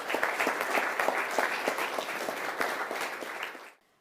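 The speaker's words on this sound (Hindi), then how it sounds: "आइए इनका भी एक बार जोरदार तालियों से स्वागत कीजिए" Steady applause from an audience at a school panel discussion on higher education, clapping evenly for a few seconds before stopping abruptly.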